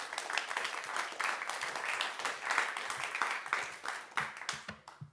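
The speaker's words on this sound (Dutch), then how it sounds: "Geef me een hartelijk applaus." An audience at a Tilburg University talk show welcomes a guest with warm applause, close and lively clapping with uneven bursts that thins into a few scattered claps at the end.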